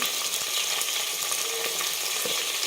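Chicken frying in a pan with ginger, garlic and coriander paste added, giving a steady, loud sizzle with faint scraping stir strokes underneath, and no voice.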